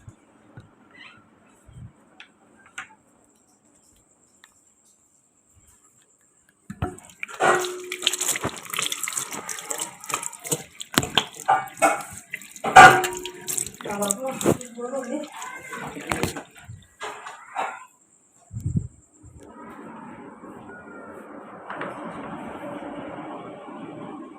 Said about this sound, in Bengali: হাতটা ধুয়ে আসি।